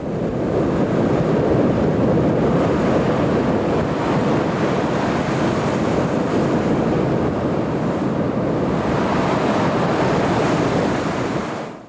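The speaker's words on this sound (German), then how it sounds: "Der erste große Wintersturm fegt über die Insel. Windstärke 13." A winter storm at hurricane-force wind strength batters an island coast, with a continuous loud roar of wind and crashing surf, steady and unbroken, buffeting the microphone.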